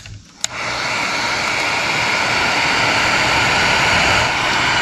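A heat gun blows hot air onto wiring during a Gen 4 LS swap air-conditioning install, kicking on after a click and holding a loud, steady, breathy roar close by with no talking.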